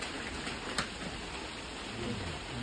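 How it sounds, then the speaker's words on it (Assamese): Steady rain falls with an even, soft hiss that fills the whole stretch at a fairly low level, with no voices. "বৰষুণে আহি গ'ল"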